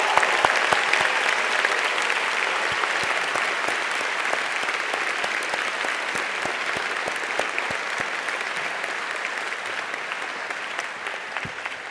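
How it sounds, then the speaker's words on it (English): A large audience claps at a 2014 high school commencement, steady sustained applause with distinct individual claps standing out, continuing evenly for about twelve seconds with no talking. "Let's give them a round of applause, please."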